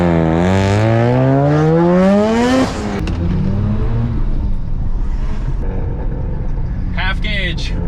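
Mazda RX-7 with a Wankel rotary engine, loud and close, revving up with a rising whine before the throttle lifts into a steady, rough cruising drone, with one brief blip of revs near the end.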